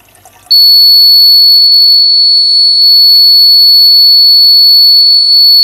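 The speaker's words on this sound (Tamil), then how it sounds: "இந்த மாதிரி அலாரம் வரும்." A water tank level alarm triggered when rising water touches a screw sensor, snapping on abruptly as a loud, steady, high-pitched electronic tone that holds unbroken to the end after a brief quiet start.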